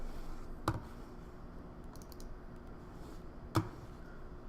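Two isolated keyboard key taps, about three seconds apart, sound close and crisp over a quiet room background with no talking.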